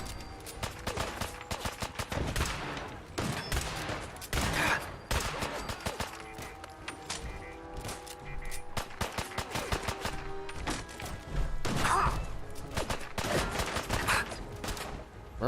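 Rapid, dense bursts of gunfire crackle through a Fallout 4 firefight, repeated volleys and single shots overlapping almost continuously, fairly loud and close with little talk over them.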